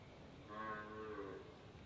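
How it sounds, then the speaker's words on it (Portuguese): A cow gives one drawn-out low moo, faint and distant against quiet background noise. "É a vaca."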